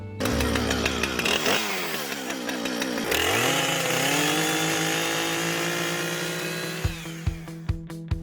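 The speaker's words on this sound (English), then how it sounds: "I'm getting better at starting my chainsaw" A chainsaw being started and run for hand-carving a wooden bowl roars close and loud, its engine revving up and changing pitch, then sputtering into a few rhythmic pulls near the end.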